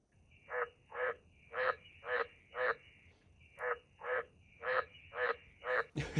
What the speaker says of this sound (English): That kind of sounds like a cursed frog